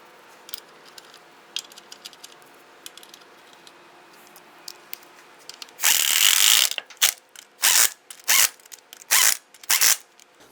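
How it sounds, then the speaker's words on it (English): A hand ratchet clicks loudly nearby while lug nuts are tightened on a Dodge Ram 1500 wheel, several quick bursts of pawl clatter following a quieter stretch of faint handling noise. "Let's go ahead and get all of our lug nuts started by hand. Once we have all these on, we're going to go ahead and snug them down."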